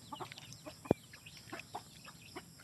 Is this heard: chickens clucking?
yes